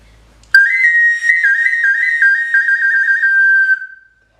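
A handmade clay whistle blown in one sustained, clear tone of about three seconds with a slight warble, starting sharply and tapering off, alone with no talk.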